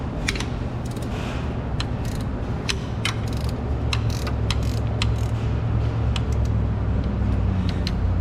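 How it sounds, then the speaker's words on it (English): A 13mm gear wrench ratchets on alternator bolts of a 2019-2024 Nissan Altima, rapid close clicking bursts repeating throughout over a steady background hum. "Go ahead and use a 13mm gear wrench."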